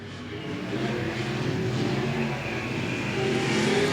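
Race cars at Golden Triangle Raceway Park thunder by in a pack, a continuous loud engine roar that swells slightly as they pass with no voices.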